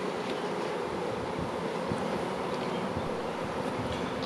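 Honeybees buzzing around an open hive during a Bailey comb exchange, a dense continuous hum close to the microphone with some wind rumble, no talk.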